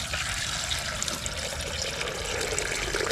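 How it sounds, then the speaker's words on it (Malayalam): Water poured into a cooking pot while preparing tapioca with sardines, a steady continuous rush and splash filling the whole stretch, fairly loud and close with no talking. "ഇനി ഞാനത് കുറച്ച് വെള്ളം കൂടെ ഒഴിച്ചു കൊടുക്കാം"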